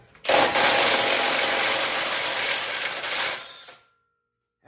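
A cordless CC impact wrench hammering loose a rusty axle nut on a Dodge Durango, one continuous loud, close burst of rapid rattling impacts lasting about three seconds before cutting off.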